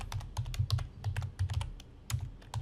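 Fast typing on a computer keyboard while drafting in AutoCAD, dense clattering key presses with heavy thumps, close and steady, no voice over it.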